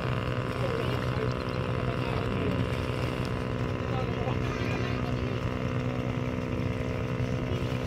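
A steady motorboat engine drones and hums throughout on a lake in the Laguna area, Philippines, with constant water and wind noise, fairly loud and continuous.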